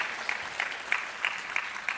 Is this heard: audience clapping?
yes